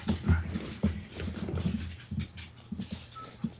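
A dog whimpers in short, uneven bursts indoors, soft whines broken by brief pauses, fairly close and not loud.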